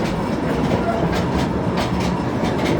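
A narrow mine tour train rolls along rails underground at the Queen Mine copper mine in Bisbee, Arizona, giving a loud, constant rumble with rhythmic clickety-clack wheel beats close by.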